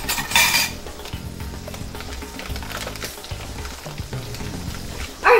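Butter sizzles and crackles in a hot pan during cooking of a shrimp alfredo pizza, a steady close frying hiss with a few clinks of a utensil against the pan.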